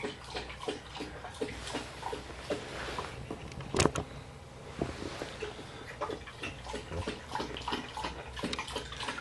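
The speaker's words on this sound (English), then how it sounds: "that's that dog of mine, or one of my dogs drinking water." A dog drinking water, with repeated wet lapping and splashing in a quick uneven rhythm, close by and fairly loud, with one sharper knock partway through.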